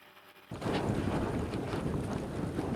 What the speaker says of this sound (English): The place is alive with sound, sloshing and spattering lava, hissing rain, the beating sound of gas bubbles bursting.